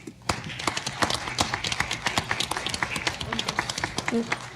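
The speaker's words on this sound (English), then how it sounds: "So thank you. We applaud you." Audience applause at a school district board meeting, a modest room's worth of distinct, uneven hand claps rattling along close by, with speech mixed in.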